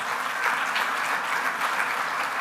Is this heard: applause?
yes